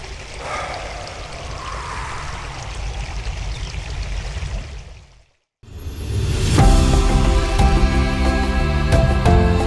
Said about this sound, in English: We can hear the water gushing